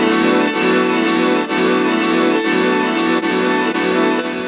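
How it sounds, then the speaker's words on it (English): A Pladask Elektrisk Fabrikat effects unit runs its grain effect non-randomized, producing a loud, dense, harsh static wash with a steady buzzing texture and faint regular pulses, with no talking. "So this is non-randomized, the grain system here. So it gives it kind of a harsh and static quality."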